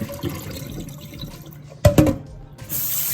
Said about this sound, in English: You want to drain that water off.